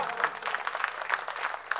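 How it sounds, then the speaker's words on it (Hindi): Audience applause at a mushaira poetry gathering, a moderate crowd clapping in uneven bursts with distinct individual claps audible within the patter. "जोरदार तालियां हरिश्चंद्र मिश्रा"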